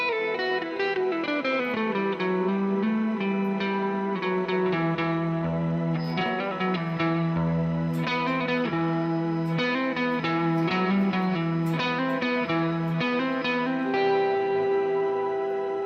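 An electric guitar plays a phrase in the Aeolian mode centred on E, with continuous plucked notes and chords washed in reverb and echo at a steady, moderate level.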